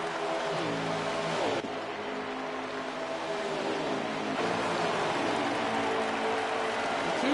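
Dirt track racing cars in a Las Vegas playoff race roar past, engine pitch sweeping down as each passes, with a steady hiss of track noise throughout.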